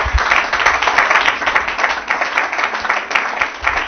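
A church congregation applauds and cheers the Lord Jesus during a French-language Sunday service, with sustained dense clapping at steady loudness that lasts several seconds, plus low rumbles in the room.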